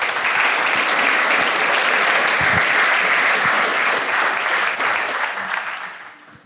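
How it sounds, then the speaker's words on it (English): A crowd claps in dense, sustained applause that holds steady for several seconds, then thins out and fades at the end. "So if you give Barbara a round of applause."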